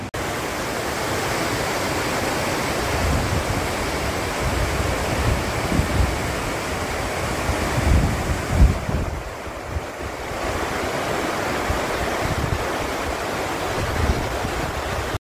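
A river rushes alongside Namsu Eco-Park near the Balason River, a loud, steady broadband roar of flowing water, mixed with some wind buffeting, lasting throughout without voices.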